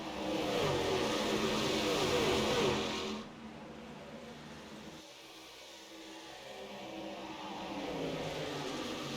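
NASCAR trucks racing at Daytona, engines roaring loudly and continuously as a pack passes close, the sound dropping at about three seconds and then slowly building again as more trucks approach.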